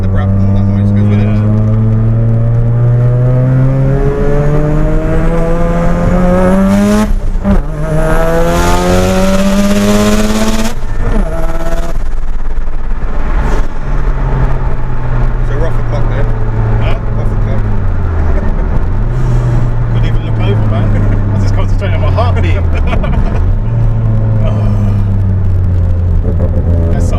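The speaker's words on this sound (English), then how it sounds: "Especially with the Bridgeport, obviously you get the brap and all that noise that goes with it." A bridgeported rotary engine in a Mazda RX-7 with 500 wheels idles and revs in a loud, continuous run, with rising and falling pitch sweeps and an uneven rumble throughout.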